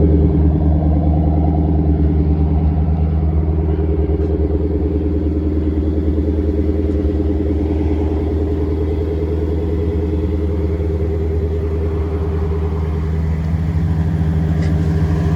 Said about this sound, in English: There's that mean exhaust.